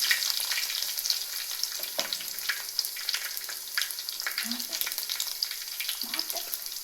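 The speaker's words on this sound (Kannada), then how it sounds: "ಈಗ ಜಜ್ಜಿಟ್ಟ ಬೆಳ್ಳುಳ್ಳಿನ ಹಾಕ್ಕೊಳ್ತಾ ಇದ್ದೇನೆ." Crushed garlic crackles and sizzles in hot coconut oil with mustard seeds, a bright steady frying hiss with occasional spatters and a few stirring scrapes, close up and without talk.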